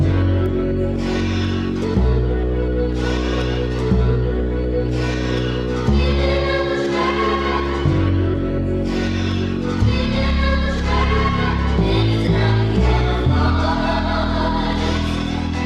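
A repeating acoustic bass pattern, thickened with light analog clipping and an LA2A compressor, keeps a steady groove of deep, sustained notes in two-second phrases, with no voices over it.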